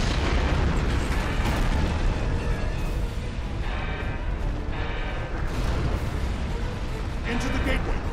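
Explosive charges detonating in the sci-fi game Star Trek Online: a loud, continuous roar of blasts and rumbling bursts lasting several seconds, with dialogue and game sounds mixed in.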